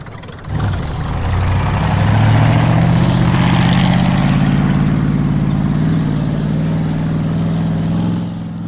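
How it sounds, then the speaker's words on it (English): A tank engine rumbles steadily at close range, deep and loud, with a low droning throb that holds for several seconds before easing slightly at the end. "If it's facing away from you, all you're going to hear is the engine."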